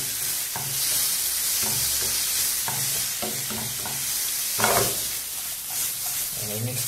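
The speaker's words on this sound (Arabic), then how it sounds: "And we mix all together now." Shrimp spring roll filling being stirred and fried in a pan, a steady sizzle broken by repeated scraping strokes of a utensil, close and continuous throughout.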